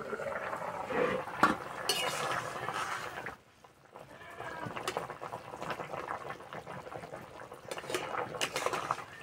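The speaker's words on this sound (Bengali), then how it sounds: "চাপাটা খুলে দেব" Metal lid lifted off a cooking pot of fish roe curry with potatoes, giving a sharp clank, followed by a brief hush and then soft bubbling and light stirring noises.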